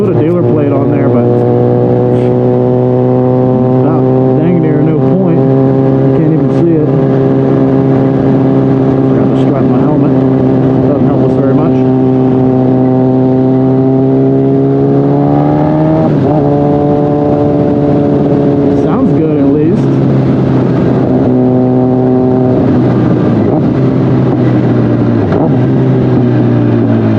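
A stretched Kawasaki ZX-10R motorcycle runs loud and close on an aftermarket exhaust, its engine note holding a steady cruising drone that swells as it revs up midway, then eases and picks up again, with a rider's voice over it.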